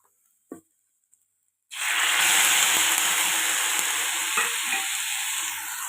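Boiled, chopped taro (alu) leaves drop into hot tempering for a Marathi alu bhaji. After near silence, a sudden loud, steady sizzle takes over and continues with faint stirring scrapes.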